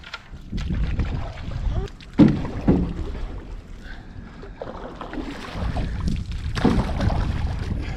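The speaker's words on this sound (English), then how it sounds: "Daddy needs some space to swing that oar back and forth" Water splashes and sloshes as an oar dips and pulls on Luna Lake in Alpine, Arizona, with knocks against the hull and low wind rumble around the boat.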